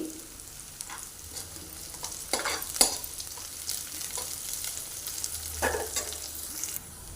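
Onion and sliced green chillies sizzle in oil in a pan for a masala egg curry, a steady close frying hiss with a few brief stirring scrapes and no talking.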